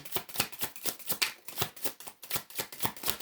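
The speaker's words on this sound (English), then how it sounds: "we're going to go ahead and pull some more cards here for Capricorn for 2021" Tarot cards being shuffled by hand, a quick rhythmic run of crisp riffling flaps, about a dozen evenly spaced bursts close to the listener with no talk.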